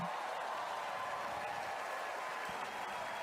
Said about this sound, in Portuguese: O público aplaude, você ouve